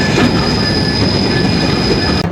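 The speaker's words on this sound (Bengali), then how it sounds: "2 নম্বর লাইনে দাঁড়াবে জাহানাবাদ এক্সপ্রেস ট্রেন এই ফরিদপুরের ভাঙা জংশনে" Jahanabad Express train at Bhanga junction in Faridpur, loud and close: a steady rumbling roar of rolling wheels with a high, sustained metallic squeal over it and no break.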